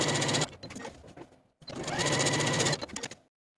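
A sewing machine top stitches shirt cuffs in two steady whirring runs separated by a brief pause, close and clear, ending in silence.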